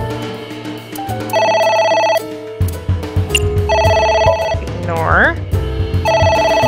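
A phone ringtone in the video game AI Somnium Files, playing as a repeating electronic melody of bright tones in bursts over a low music bed, with a brief spoken word partway through.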